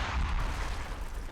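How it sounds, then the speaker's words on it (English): Mortar rounds bursting in a World War II tactical war game, a deep rolling boom with a low rumbling tail lasting the whole moment. "He's getting mortared."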